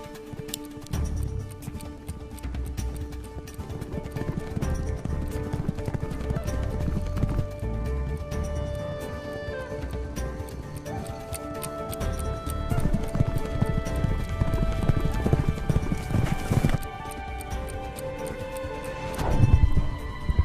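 Clip-clop of a young racehorse's hooves on a mile-and-a-half oval track, steady galloping beats under a dense orchestral-like background, with a brief whinny and occasional loud thumps.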